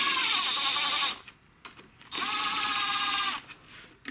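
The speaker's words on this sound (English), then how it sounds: "Now I'm using the impact to start them back in" An impact wrench on its low setting drives valve cover bolts on a Kohler single-cylinder OHV lawn tractor engine in two sustained rattling, buzzing bursts with a short gap between them, close up and with no talk.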